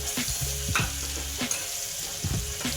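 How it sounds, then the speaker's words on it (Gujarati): Green chillies and other ingredients for mung bean rice sizzle in a hot pan, close up, with a few quick stirring scrapes and knocks over the steady frying hiss and no talking. "એ નાખી દેવાનું વ્યવસ્થિત સાંતળવા દેવાનું પછી લીમડાની ડાળી નાખી દેવાની"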